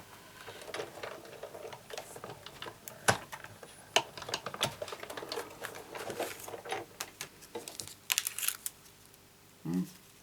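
Paper runs through a die cutting machine for a butterfly banner card, making a fast, quiet stream of clicks and small ticks that ends in a soft thump.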